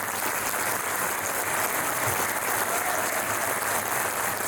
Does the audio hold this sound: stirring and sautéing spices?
no